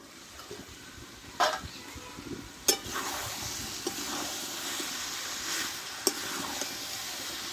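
Chicken frying in ground spice paste in a pan, a moderate steady sizzle punctuated by a few sharp utensil clinks and stirring scrapes.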